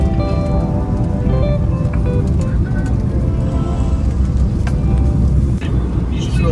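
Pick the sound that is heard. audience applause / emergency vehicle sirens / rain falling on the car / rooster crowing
rain falling on the car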